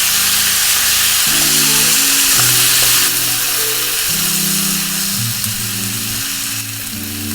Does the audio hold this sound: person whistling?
no